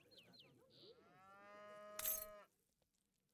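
Cattle in the video game Age of Empires III give a single drawn-out moo, clear and close against quiet game sounds, ending with a short sharp effect.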